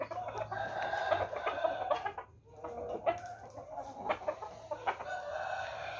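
Gamecocks in a cockfighting pen cluck and crow repeatedly, several birds calling close by in irregular bursts over a quiet background.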